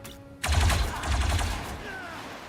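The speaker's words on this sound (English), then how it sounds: "Trick is gonna take the shot" A soldier fires a single loud gunshot in the turn-based XCOM video game, a sharp crack followed by a ringing, rumbling tail and a faint whine as it fades.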